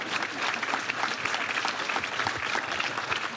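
A studio audience claps steadily and evenly throughout, a warm continuous patter of many hands at moderate volume with no voices over it.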